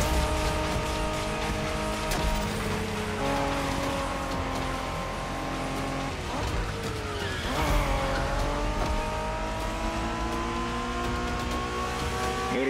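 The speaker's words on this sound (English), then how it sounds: "We're going for some proper Japanese street racing." Japanese-style street racing cars in The Crew Motorfest, engines revving loud and steady with rising and falling pitch, tires squealing and skidding through corners over a continuous roar.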